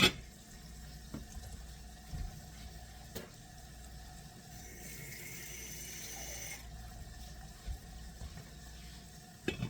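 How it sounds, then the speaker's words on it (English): Water runs from a tap or is poured into a pot of cooking lima beans in a kitchen, a soft steady stream in the middle with faint clinks and bumps around it, fairly quiet. "How much water do I have? I better add some more."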